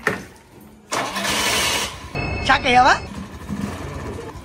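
A Jupiter scooter's engine cranks and catches after a short pause, then settles into a mid-pitched idle up close, with a voice talking over it.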